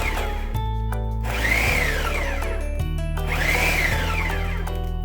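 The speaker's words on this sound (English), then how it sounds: "Coarsely chopped cauliflower goes into the food processor." Ninja food processor on chop mode whirring through coarsely chopped cauliflower, loud motor pulses starting and stopping in short bursts with a gritty rattling grind.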